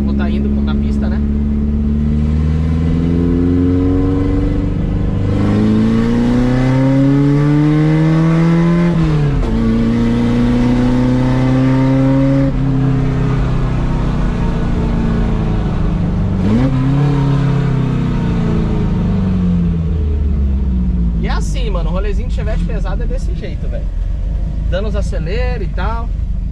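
A naturally aspirated Chevette, driven at night, revs hard through several gears, the engine note climbing and dropping with each shift. It is loud and close, and people talk over it.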